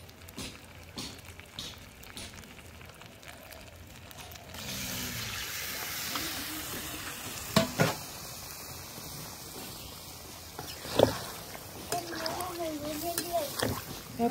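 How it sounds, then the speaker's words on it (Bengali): Hot water poured into a pan of spiced chicken that has been fried down, setting off a steady broadband hiss and sizzle that holds for about ten seconds, with a few sharper clatters standing out along the way. "এই জলটা এবার ঢেলে দেবো।"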